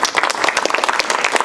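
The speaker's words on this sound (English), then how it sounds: "Let's give a round of applause for Henny again." A small audience at a 1 Million Cups startup presentation in Madison claps, with individual hand claps distinctly audible in a quick irregular patter rather than a dense roar.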